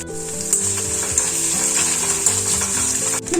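Coconut pieces fry in ghee in a pan, giving a loud continuous sizzle with occasional stirring scrapes and no voices.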